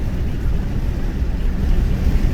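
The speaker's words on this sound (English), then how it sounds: "we have got a southwest wind" Strong, gusty southwest wind blows outdoors on a 54-degree Sunday morning at the end of ice season, with gusts up to 60 mph. It makes a steady, loud, roaring rumble with buffeting surges and no talking.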